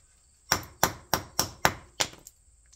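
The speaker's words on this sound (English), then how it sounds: "we're hitting it with a hammer" A hammer strikes a metal part on a 1972 AMC Gremlin six times in a quick, even rhythm, each blow sharp and ringing, close by, followed by faint rattling.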